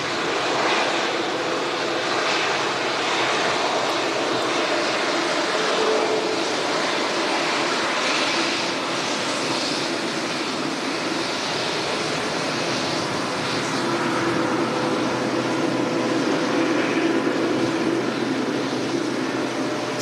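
A TUI airliner approaches to land at Manchester Airport, its jet engines a loud, continuous, broadband roar that holds steady throughout, heard from the ground without any talk.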